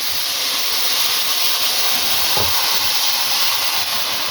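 Urad dal poured with water into hot masala in a pot sets off a loud, steady, close sizzling hiss that lasts throughout, with one brief lower gurgle partway through.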